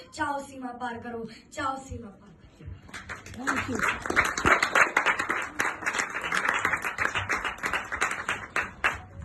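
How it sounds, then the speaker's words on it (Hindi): Audience clapping after a live performance in Goregaon, Mumbai: a loud, sustained burst of many hands applauding, rising after a spoken voice at the start and continuing at near-constant intensity to the end. "जोरदार तालियां गाइस"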